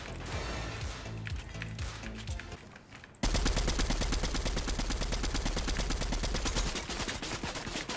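Gunfire from Fortnite: a rapid, dense burst of automatic shots fires continuously for several seconds after a quieter stretch of game sounds, loud and close.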